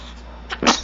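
A single sharp sneeze, close and fairly loud, preceded by a brief softer intake, from a pet cat, with a steady low hum underneath.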